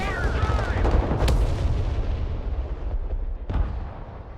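Mortar and artillery fire in the military strategy game Broken Arrow booms heavily and close, with a sharp blast and rumbling decay, then a second impact a few seconds later.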